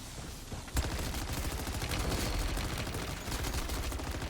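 Rapid, dense automatic gunfire from the VR11 weapon in Call of Duty Modern Warfare 3 Zombies, starting with a sharp shot and then sustained loud bursts in a continuous fusillade, with no talk.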